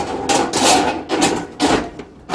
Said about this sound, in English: and then we just twist the pipe to lock it